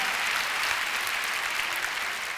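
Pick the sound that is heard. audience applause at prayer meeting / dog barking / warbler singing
audience applause at prayer meeting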